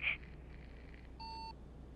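A phone app gives a short electronic beep during a call in a truck-driving game, a brief tone that stands alone against a quiet background.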